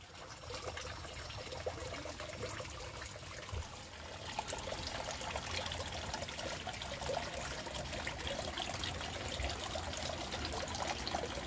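Water runs steadily from three washing taps at a campsite ablution area on Mount Pancawati, Bogor, a continuous trickling splash that grows a little busier partway through, with no talking.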